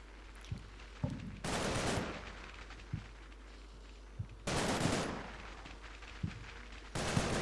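Machine gun fire in the World War II game Combat Mission: Battle for Normandy comes in several long, loud sustained bursts, separated by quieter gaps with scattered single distant pops.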